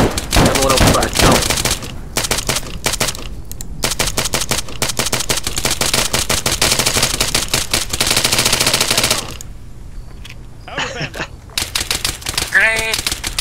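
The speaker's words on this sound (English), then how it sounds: "Everyone open fire on his dead body" Rapid automatic gunfire from an ARMA 3 military game, long dense bursts of many shots from several weapons, loud and close, pausing briefly before resuming, with voices talking over parts of it.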